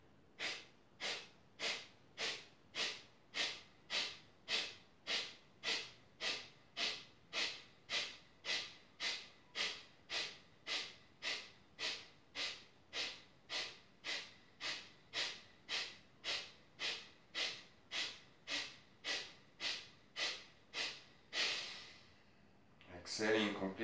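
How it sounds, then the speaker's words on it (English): Rapid, forceful yoga breathing through the nostrils, about forty sharp even exhalations in a steady pumping rhythm, close and loud, ending with a longer exhale. "Exhaling the air out the nostrils, you take a deep inhale, and you get pumping."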